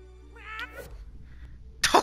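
A cat meows in South Park: The Fractured But Whole, a short, clear cry near the start, followed by a louder burst that sounds like a cough or hiss.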